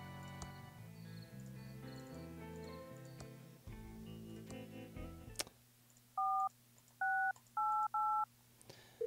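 Cell phone dialing tones in Thimbleweed Park: a few short, distinct keypad beeps in an irregular sequence, clear and close, following a stretch of game music with no voices.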